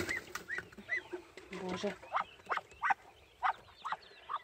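Muscovy ducks and newly hatched ducklings call close by in short repeated honking cries and thin peeps, spaced through the clip, with someone speaking softly over them.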